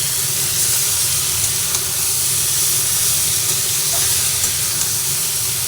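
Prawns, cauliflower and potato sautéing together in a pan give a continuous close, bright sizzle and hiss with faint stirring scrapes, no voices over it.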